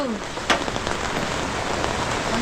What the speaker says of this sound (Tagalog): Oo, ulan lang yan.